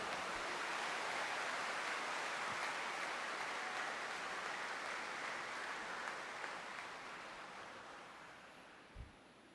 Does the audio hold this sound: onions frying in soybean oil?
no